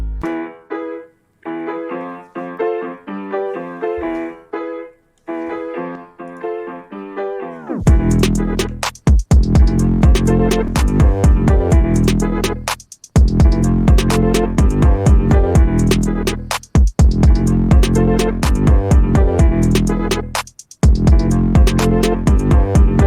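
A piano melody plays alone, then a hip-hop beat kicks in with heavy bass and punchy drums under the keys, with brief dropouts.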